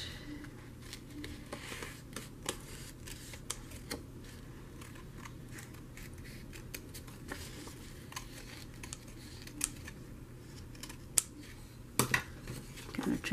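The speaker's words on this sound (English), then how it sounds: "Use the big scissors." Large scissors trimming paper at a journaling desk, a string of quick soft snips and crisp cuts spread through a quiet room.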